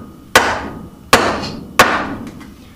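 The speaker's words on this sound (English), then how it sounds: "set in there, bevel in the direction of I'm planning to travel, and give it a couple good whacks with the mallet." Wooden mallet striking a chisel while hand-cutting a long mortise, three sharp, close whacks spaced under a second apart, each ringing briefly before fading, no talking.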